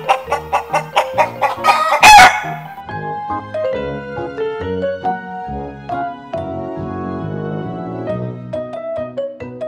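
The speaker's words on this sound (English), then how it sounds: "Chicken." A rooster crow and clucking hens from an Anpanman educational toy, set to a bright electronic melody: a loud burst of crowing near the start, then a bouncy tune with clucks runs on steadily.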